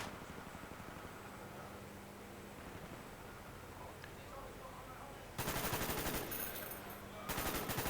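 Bursts of automatic gunfire in Call of Duty Black Ops during a competitive grand final match, faint at first under a low background hum, then two loud, close rapid-fire bursts near the end.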